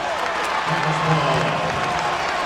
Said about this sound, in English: But the applause from the bench for the hustle for Steven Jackson.